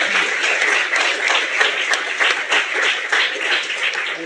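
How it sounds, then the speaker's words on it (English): A conference audience applauds a panel, dense sustained clapping from many hands, loud and even throughout. "A round of applause, please, for the panel."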